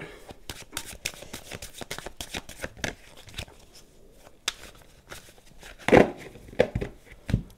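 A deck of playing cards being cut and shuffled by hand at close range: quick bursts of riffling and flicking slaps in irregular clusters, with a sharper louder riffle near the end and no talk.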